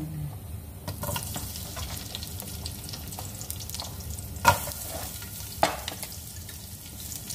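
Chopped onion sizzles steadily in hot oil in a pan while being stirred, with a couple of sharper scrapes or clanks standing out against the constant frying hiss.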